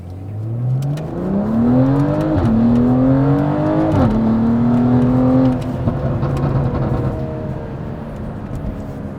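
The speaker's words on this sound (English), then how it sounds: "We're gonna pull over here and give my car a little bit of a rip." A BMW M340i sedan's torquey engine revs hard under full acceleration, its note climbing steadily through the gears with brief dips at shifts, loud and close, then easing off toward a steady cruise.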